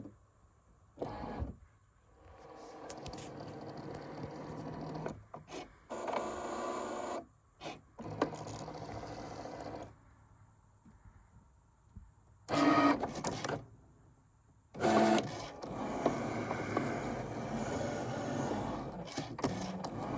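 A Cricut cutting machine runs a single scoring wheel over poster board, giving a steady mechanical whirr and rasp in repeated passes, broken by short pauses and a few louder bursts as the carriage moves.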